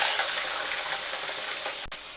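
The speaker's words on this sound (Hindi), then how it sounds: "इसका कलर चेंज होने तक हम जो है इसको फ्राई करेंगे" About three kilograms of chicken pieces frying in hot oil in a karahi, giving a dense, continuous, loud sizzle up close, with one brief knock near the end.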